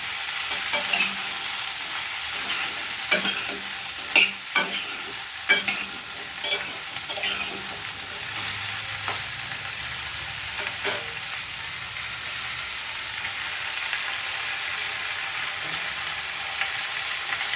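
Simba beans and potato frying with tomato and onion in a pan, a steady sizzle broken by repeated scraping stirs early on, then settling into a continuous hiss.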